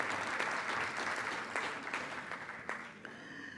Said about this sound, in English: Please give my team a big round of applause.